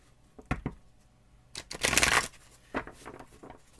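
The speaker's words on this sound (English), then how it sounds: "I'm going to give it a couple of shuffles" Tarot cards being shuffled by hand in a few bursts: two quick riffles early, a longer louder shuffle in the middle, then a shorter one, close and crisp with quiet pauses between.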